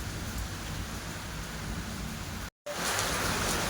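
Heavy monsoon rain pouring down in a dense, steady roar at morning, broken by a brief dropout before the downpour resumes just as strong.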